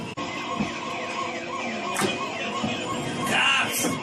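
A police siren wails from a classic racing arcade game cabinet, its rising and falling tones layered over busy electronic game sounds, with some speech mixed in.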